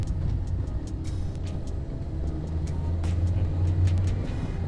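Inside a 2008 Toyota Yaris S automatic small hatchback as it accelerates on the road, the engine gives a steady low rumble that builds slightly toward the end, with light road noise and no speech.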